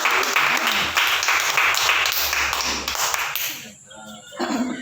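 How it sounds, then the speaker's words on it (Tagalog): Congregation applauding at a Christian prayer service in Mauban, a dense wash of clapping lasting several seconds before dying away, then a voice resumes. "palakpak po natin ang Diyos"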